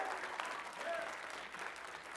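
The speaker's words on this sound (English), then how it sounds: "somebody give the Lord a hand clap of praise" A church congregation claps in praise, a broad wash of hand claps spread through the room, steady and moderately loud for a couple of seconds.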